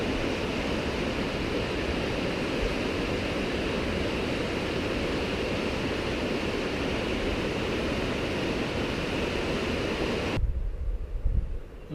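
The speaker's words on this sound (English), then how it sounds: "it's a pretty awesome waterfall coming down through there" Mist Falls in Kings Canyon National Park roars as a steady, dense rush of falling water for most of the stretch, then cuts abruptly to a quieter low rumble near the end.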